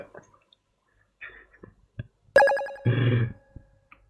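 A brief electronic phone ring chimes once, preceded by a few soft clicks and taps in an otherwise quiet room.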